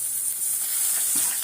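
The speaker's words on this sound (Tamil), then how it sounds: "இந்த பக்கம் சிக்கன் தாளிக்க போகிறேன்." Chicken sizzles and crackles steadily as it is tempered in hot oil, a constant bright hiss with a small pop near the end.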